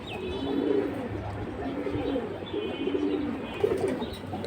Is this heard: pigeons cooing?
yes